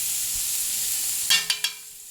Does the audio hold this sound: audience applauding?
no